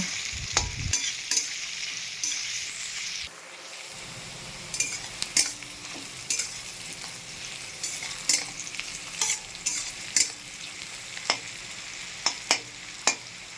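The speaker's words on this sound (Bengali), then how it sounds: "পেঁয়াজটা ভেজে নিয়েছি" Onions fry in a pan with a low continuous sizzle, punctuated by a regular series of sharp metallic clacks and scrapes of the spoon against the pan.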